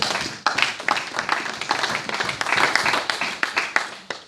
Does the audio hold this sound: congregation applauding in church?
yes